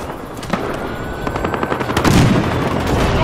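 Battlefield Hardline gunfire in a night woods map, a run of rapid automatic shots and bursts at moderate distance over a steady background rumble.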